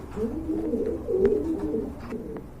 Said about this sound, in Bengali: আর এখন দেখতে পাচ্ছেন আরেক জোড়া কবুতর রয়েছে রেড